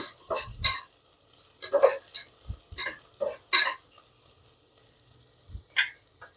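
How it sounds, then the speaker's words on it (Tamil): Carrots and beans stirred in a pan with browned onions for veg pulao, a spoon scraping in uneven bursts while a light sizzle runs underneath, close and moderately loud. "அடுத்ததாக கேரட்டு, பீன்ஸு, கொஞ்சம் இந்த காய் வதங்கட்டுருங்க."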